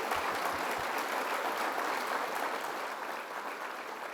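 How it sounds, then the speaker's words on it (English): Audience applause at a government announcement event in Niagara Falls, dense even clapping from a large indoor crowd that carries steadily throughout and tapers slightly toward the end, with no voices over it. "Let's give her a round of applause."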